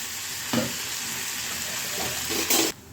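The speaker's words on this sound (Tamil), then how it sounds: "இதையும் நம்ம நல்லா வதக்கி எடுத்துக்கலாம்." Tomato and mint sautéing in a pan for mutton fry, a steady close sizzle with a couple of brief stirring scrapes and no voices.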